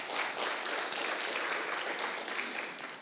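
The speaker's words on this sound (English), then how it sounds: "give MDEC another applause" Audience applause at an industry presentation on gamer behaviour in Southeast Asia, a dense, steady wash of many hands clapping at moderate volume, alone, easing slightly near the end.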